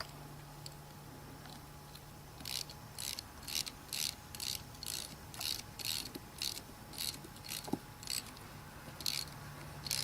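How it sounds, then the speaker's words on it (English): A wrench ratchets down a clamp on a ground rod, giving a crisp, fairly quiet series of about fifteen clicking bursts in a steady rhythm over a faint background hum, with no talking. "Tighten her down as tight as you want to go."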